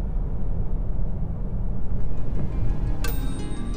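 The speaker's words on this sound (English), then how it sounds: "on the motorway, wind noise is more than noticeable" Steady broadband rumble of wind and road noise inside a Citroen C5 Aircross SUV cruising on the motorway, a continuous loud roar with no talk.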